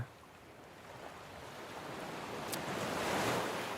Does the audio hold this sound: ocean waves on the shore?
yes